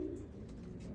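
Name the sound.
racing pigeons cooing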